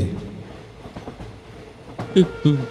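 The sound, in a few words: train sound effect in a Bengali ghost story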